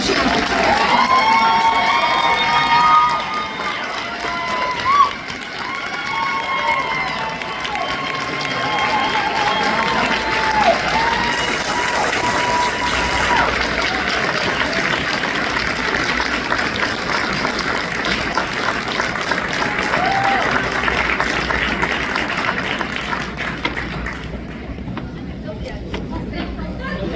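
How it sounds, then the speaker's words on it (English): Applause and cheering from a crowded award dinner audience, with whoops, shouts and a busy babble of voices carrying on for nearly half a minute before thinning out near the end. "Please join me in a big round of applause"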